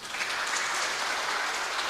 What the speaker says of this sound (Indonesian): Tepuk tangan buat saudara.